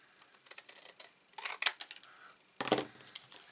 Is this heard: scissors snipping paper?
yes